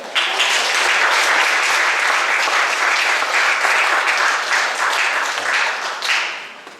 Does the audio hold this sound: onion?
no